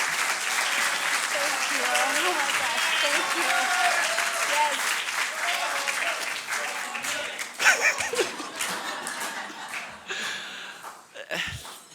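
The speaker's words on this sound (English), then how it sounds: "So please give a huge round of applause for John C. Yang" Sustained audience applause at an awards ceremony, steady and full for most of the stretch, then thinning into scattered claps with some crowd voices and talk mixed in toward the end.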